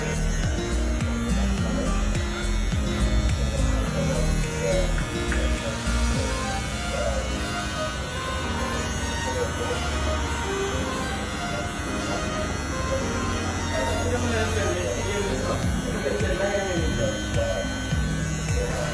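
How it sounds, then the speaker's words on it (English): Electric hair clipper trimming a child's low-cut fade, a steady continuous buzz running throughout under dense background noise. "how to use the clipper to carve"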